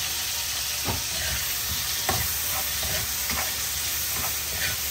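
Chopped onions and tomatoes being sautéed in a pan with pork, a steady loud sizzle broken by several scraping stirs of a utensil, no talking.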